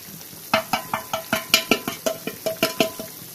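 Rhythmic scraping and plopping as a thick tomato sauce with chilli powder, turmeric, salt and fenugreek is stirred in a pot, about a dozen regular strokes over a soft bubbling sizzle.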